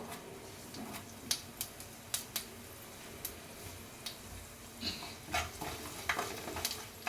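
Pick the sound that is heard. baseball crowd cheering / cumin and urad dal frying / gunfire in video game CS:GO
cumin and urad dal frying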